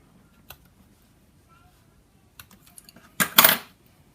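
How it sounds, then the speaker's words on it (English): Scissors snip off the strings on a handmade sock snowman: a few faint clicks, then two sharp, close metallic snips near the end, with quiet room tone and no talk. "Just going to snip off those strings."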